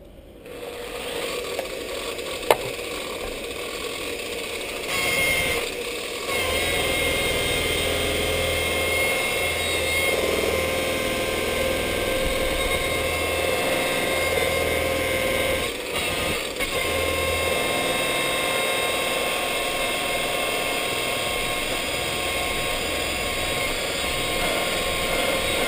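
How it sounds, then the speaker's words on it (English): An angle grinder running at slow variable speed, around 1500 to 2000 rpm, with a Tripoli compound polishing wheel gives a steady, continuous mechanical whir and rub, close and unbroken for the whole stretch, with no talking. "I'm using a wheel like this on an angle grinder. The angle grinder has variable speed, and I'm keeping the speed pretty slow"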